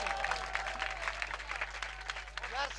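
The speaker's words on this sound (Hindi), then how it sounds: "हाँ भाई तुसी भरपूर ताली नाल इस्तबार कर सो जनाब कावेज तमीमी साहब जी" Audience applause greeting a poet at a Punjabi mushaira stage event, a steady dense clapping that runs the full length with crowd noise and a voice speaking over it.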